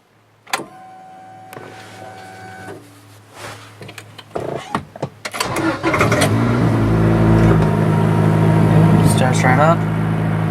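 An Acura Integra with a newly installed Walbro 255 lph fuel pump cranks and starts, following some clicks and clunks, then settles into a loud, steady idle close by.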